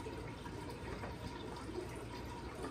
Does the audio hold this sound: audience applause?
no